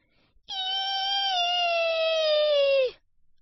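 A single drawn-out, high nasal whine from a voice, steady and close, lasting a couple of seconds before dropping off, like an imitated wheeze.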